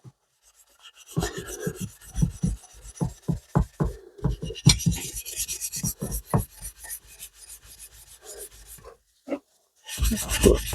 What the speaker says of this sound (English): simply a couple of seconds rubbing with wire wool, that bit's come quite shiny there.